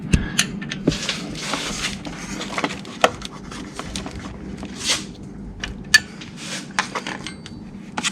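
Metallic clicks, taps and small scrapes as a tool backs off a valve lash adjuster on an Acura TL engine, irregular close-up mechanical sounds over a low hum.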